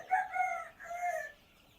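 A rooster crows nearby on a poultry farm with broiler chicks, two drawn-out calls, fairly clear against a quiet background.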